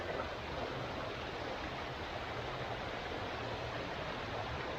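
Waterfall in a Hawaiian jungle, a steady broadband rush of falling water that holds at an even level throughout, close and continuous with no voices over it.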